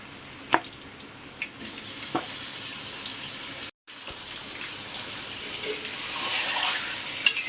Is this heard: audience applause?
no